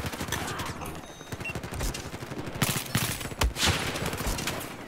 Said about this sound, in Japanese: スナイパーの音